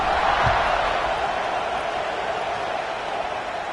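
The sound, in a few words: stadium crowd buzzing after a touchdown, from the College Football 25 video game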